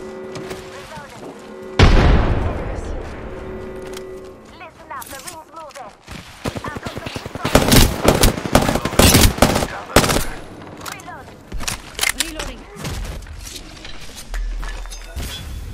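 Gunfire in the Apex Legends video game: bursts of rapid automatic shots and heavy booms, some close and loud, crackling in dense volleys for much of the stretch, with a brief voice callout among the shooting.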